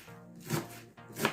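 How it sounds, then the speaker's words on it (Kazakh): Two close, crisp knife strokes cut through cabbage on a board for a vegetable soup, each a sharp chop followed by a short pause. "Капустаны турап,"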